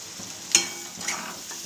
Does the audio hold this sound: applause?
no